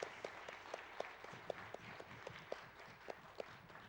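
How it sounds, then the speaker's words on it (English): Faint applause from a speedrun marathon audience at AGDQ 2017, heard as a steady wash of clapping with small regular peaks. "This is where you clap"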